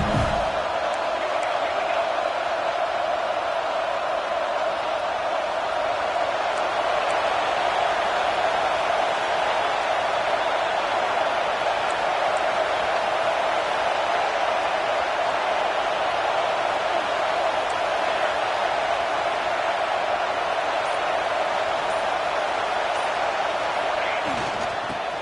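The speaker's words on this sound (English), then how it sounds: "Listen to the crowd energy here in the early going." A football stadium crowd at an Ohio State game, a steady, dense roar of cheering and voices sustained throughout, loud and continuous with no breaks.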